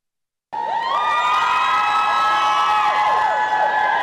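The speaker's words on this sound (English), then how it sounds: "were greeted with a well-deserved rapturous cheers and applause" A small welcoming crowd cheers and shouts for the returning Trinidad and Tobago CARIFTA Games team, a loud sustained roar of voices that swells in suddenly after silence and keeps going with whoops rising and falling.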